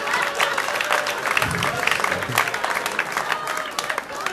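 Audience applause at a stand-up comedy show, a dense, steady round of clapping lasting several seconds, with a brief murmur of voices in the crowd partway through.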